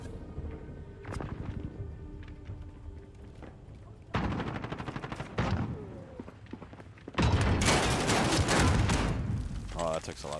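Rapid gunfire from Call of Duty: Modern Warfare crackles in dense bursts that grow louder and heavier toward the end, over steady background game noise.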